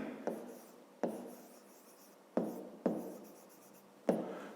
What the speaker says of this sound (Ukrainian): Ну що ж, записуємо тоді.